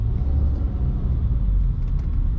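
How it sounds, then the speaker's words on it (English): Road traffic slowing down, a dense steady rumble of passing cars and engines close by, loud and continuous with no voices. "The traffic is slowing down."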